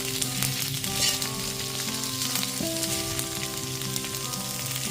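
Capsicum and onion pieces stir-fry over a high gas flame for a chili paneer dish, giving a steady, dense sizzle with light spatula scrapes and tonal background music running throughout.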